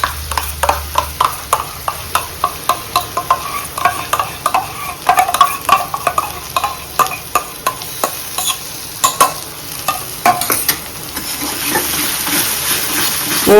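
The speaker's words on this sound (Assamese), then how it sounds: "তো এতিয়া মই দিম আদা নহৰু পেষ্টখিনি।" Ginger garlic paste frying in a hot pan, with a steady sizzle beneath rapid, rhythmic scraping strokes of a spoon stirring it, close and continuous.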